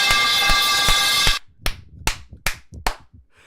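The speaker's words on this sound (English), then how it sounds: "Everybody give Soul a round of applause." Dense applause from a streaming audience fills the first second and a half, then thins into a handful of sharp, separate claps spaced irregularly to the end.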